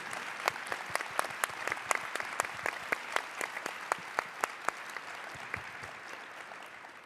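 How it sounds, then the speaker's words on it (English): Audience applause for conference panelists at the opening plenary of a roadmap conference on electric transportation, a steady close patter of many hands clapping with sharp individual claps standing out, continuing without voices for several seconds. "Let's have a round of applause for these amazing panelists."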